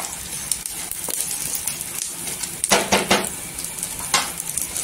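Peanuts roasting in oil in a pan for Solapuri shengdana chutney, a soft steady sizzle with scraping stirs and a few light clinks of a spoon against the pan, heard close with no talking.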